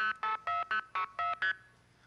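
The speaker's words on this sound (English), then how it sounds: "That little tone you hear right after the 2600 burst, that's what is called a tone applier." Phone phreaking signaling tones, a 2600 Hz burst followed by a tone applier, sound as a quick series of seven short, sharp electronic beeps in a clipped rhythm, close and fairly loud, then a brief quiet tail.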